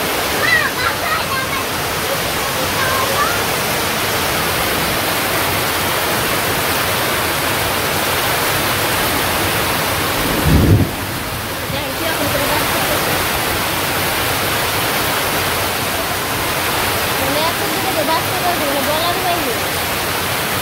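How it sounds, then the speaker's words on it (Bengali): Steady, even rain pours down around a village house, a dense unbroken hiss running the full length with one brief louder thump midway. "অনেক দূরে বৃষ্টি নামছে।"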